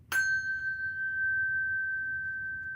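A bell with a small center clapper is struck once, giving a clear, bright ding that holds a steady pure ringing tone and fades only slightly over nearly three seconds, close and alone.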